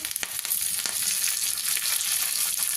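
Curry leaves dropped into hot oil for rasam sizzle loudly and continuously, a dense crackling hiss with a few sharper pops and no talking.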